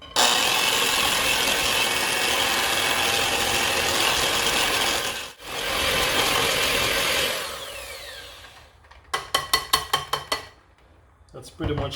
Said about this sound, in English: We're gonna start adding the flour, small amount at a time, and we're gonna mix that right in.